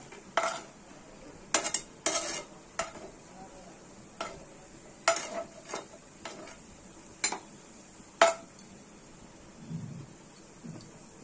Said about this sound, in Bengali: আমরা ঠিক এই অবস্থায় একটা প্লেটের মধ্যে তুলে নেব